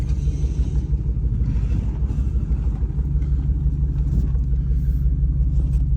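A third-generation Ram truck rolls along at low speed with a steady, deep engine rumble close by, its suspension thudding and creaking faintly underneath, with no speech.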